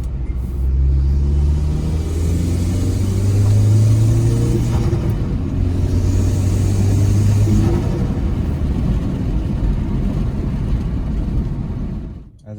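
Turbocharged Hyundai Veloster engine with an aftermarket charge pipe, revved up and held at high RPM for several seconds as a steady, loud rumbling drone, then eased off before cutting out at the end.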